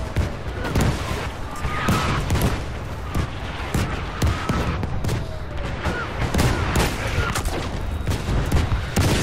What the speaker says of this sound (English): Just called in an artillery barrage.